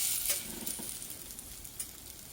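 Slices of egg-soaked bread for French toast frying in a pan, a soft, steady sizzle with a few crackling pops, fairly quiet and close.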